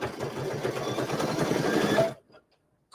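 A flatbed multi-needle embroidery machine stitches steadily with a fast, even mechanical chatter for about two seconds, then stops abruptly, leaving near silence and a faint click.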